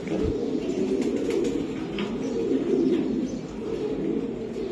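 An Army pigeon, a racing pigeon, coos low and continuously against a dense, steady background at a bird market stall, with no talk heard.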